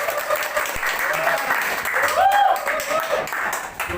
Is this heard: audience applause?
yes